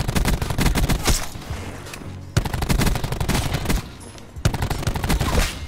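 Maddox rifle fire in Call of Duty: Black Ops 4, loud close bursts of rapid automatic shots in three strings separated by brief pauses, no talking.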